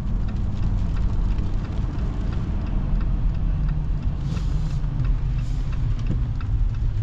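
A 2024 Jeep Gladiator Rubicon X truck accelerating at over 4,000 feet, heard from inside the cab as a steady low engine rumble with road and wind noise, with no talk.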